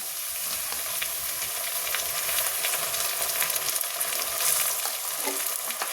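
Ginger-garlic paste and onions frying in a pan, a loud, continuous close sizzle and hiss with faint stirring scrapes throughout, without any voices.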